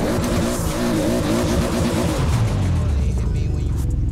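A car engine drives past in the video game Forza Horizon 4, a steady loud rumble that shifts in pitch as it goes by, with talk in the background.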